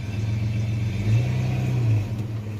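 A 1985 Chevy S10 pickup engine, freshly fitted with a 3-speed transmission, runs close by in gear with a steady low hum that rises briefly in pitch and load, then settles back to an even drone.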